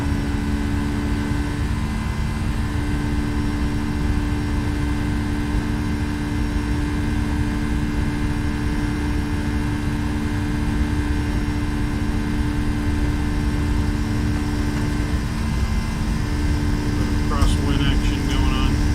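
FlightFactor Boeing 757-200 jet engines spooled up to takeoff thrust in X-Plane 11, a loud steady roar with a deep low rumble and sustained tonal whine, continuous throughout with little change, under occasional talk.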